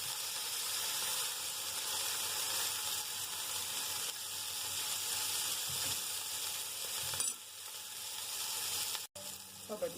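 Sardine kofta sizzles and fries steadily in hot oil for several seconds, a continuous crackling hiss with a brief clatter near the end.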